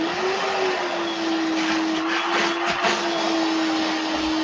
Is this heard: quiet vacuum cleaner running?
yes